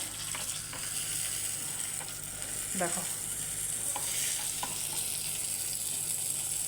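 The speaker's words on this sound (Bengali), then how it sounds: "এই যে বাটার দিয়েছি তাওয়াতে" Butter sizzles on a hot tawa while tacos fry, a continuous even hiss with faint stirring ticks, and a single brief spoken word partway through.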